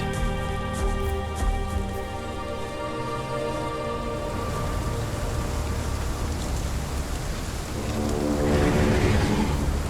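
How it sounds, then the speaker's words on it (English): Heavy rainstorm in the dinosaur game Path of Titans, a steady wash of rain alongside layered tonal ambience and music, swelling louder toward the end with no one speaking. "This heavy rainstorm has been going on for hours."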